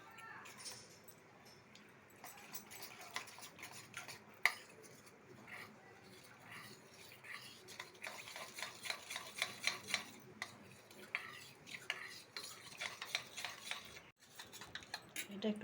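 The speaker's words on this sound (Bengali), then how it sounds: "আর একটু মরিচ গুঁড়ো দিয়ে দিলাম, দিয়ে আমি এটা জলে গুলে নেব।" Chili powder stirred into water in a bowl with a spoon, faint at first, then a steady run of scraping, clinking strokes against the bowl that grows busier toward the end.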